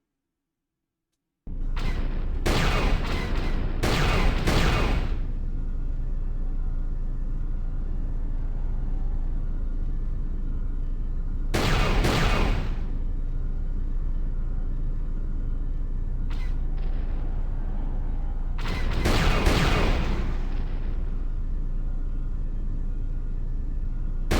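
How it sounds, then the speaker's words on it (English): Starship turret gunfire aboard the Ebon Hawk in Star Wars KOTOR 2: loud broadband blasts come in short clusters and single bursts, spaced several seconds apart over a steady low engine rumble, with no voices. "Man the turret. I'll man the turret."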